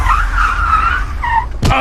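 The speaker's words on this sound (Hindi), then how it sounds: "तभी गाड़ी में जोर का ब्रेक लगा" A car brakes hard, a sustained tire skid squealing loudly across most of the stretch before a sharp burst at the end.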